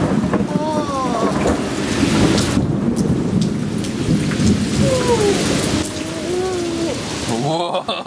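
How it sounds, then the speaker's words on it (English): Heavy rain pours steadily through a thunderstorm as thunder rumbles low underneath, loud and close, while children's voices call out briefly over the downpour. "Well, where's the thunder?"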